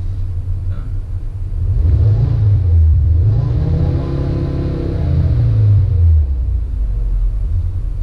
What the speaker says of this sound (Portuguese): O carro tá falhando bastante.